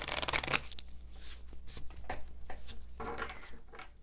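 A deck of tarot cards being shuffled by hand, soft riffling and rustling bursts close up, the loudest flurry at the start and another toward the end, with no talking.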